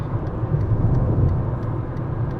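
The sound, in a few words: Fiat Panda 1.2 petrol car driving at 70 mph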